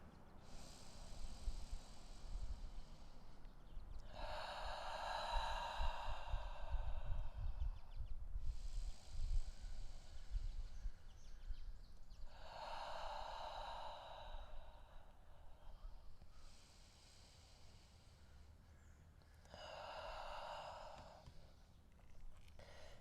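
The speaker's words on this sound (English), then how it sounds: "Take 5 deep breaths, inhaling through the nose and exhale through the mouth." Close, slow deep breathing during a solar plexus exercise: a person draws in through the nose and lets out long breaths through the mouth, about four full cycles with pauses between.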